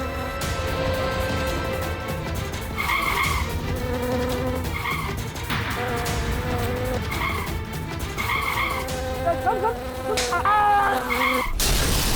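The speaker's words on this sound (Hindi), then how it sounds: "मैंने तुझे मक्खी मारने को कहा था, मुझे नहीं" A fly buzzes continuously and loudly under a dense mix of other sounds, with a few sharp bursts that fit swats.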